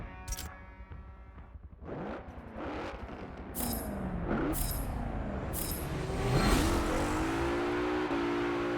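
A Mercedes-AMG GT R engine in Forza Motorsport revs and climbs through gears on a practice lap, loud rising pulls broken by quick shift drops, growing steadily stronger.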